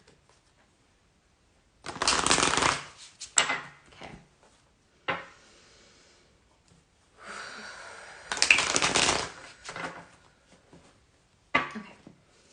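Several separate bursts of stiff-cardstock tarot cards being shuffled, crisp riffling rasps with quiet pauses between, and a single brief spoken word.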